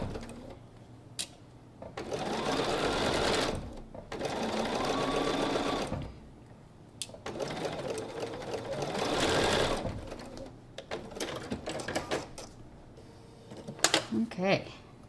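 A sewing machine stitches quilt block seams in several close bursts of rapid mechanical whirring, separated by short pauses filled with handling clicks and light rustling.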